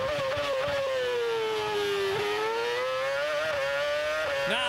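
A 2006 Formula One car's engine screams at around 18,000–19,000 RPM at Albert Park, a sustained high-pitched onboard wail that dips and climbs slightly with gear changes, loud and continuous with no talk.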